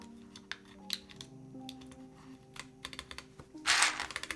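Close, quiet typing on a Ducky One X Mini mechanical keyboard during a build, irregular clacking keystrokes with a brief burst of rattling near the end.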